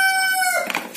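A rooster crows once, close and loud, the call holding briefly before breaking off within about a second.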